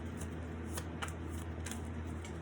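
Quiet, soft riffling of tarot cards being shuffled, with a few brief papery bursts over a low steady hum.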